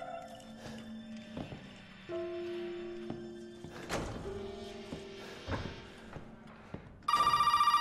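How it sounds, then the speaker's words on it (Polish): A telephone rings in Resident Evil 7, a loud electronic bell that bursts in at the end after quieter thumps, tones and ambient game sounds. "O, telefon."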